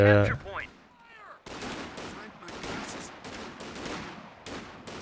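Machine gun fire in the WWII strategy game Company of Heroes 2, a steady run of rapid rattling bursts after a short spoken line, loud and continuous for several seconds.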